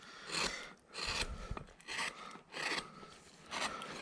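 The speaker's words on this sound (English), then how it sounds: "just take a big gouge like this number 11 and start shaping him with this gouge" Large number 11 woodcarving gouge shaping a wooden farmer figure by hand, five close, quiet scraping strokes in a steady rhythm with short pauses between them.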